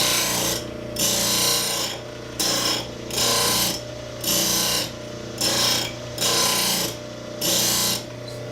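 A wood turning tool is sharpened against a powered wheel, its steady grinding whir rising in eight even, evenly spaced bursts about a second long, separated by brief quieter gaps over a constant motor hum.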